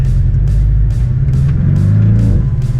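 Car driving with a dashcam running, then braking hard to a full stop: a loud, steady low engine and road rumble with periodic broadband whooshes and a brief rising tone near the end.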